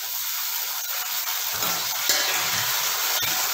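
Onion frying in a pan gives a steady, loud, close sizzle throughout, with a few faint stirring scrapes and no talk.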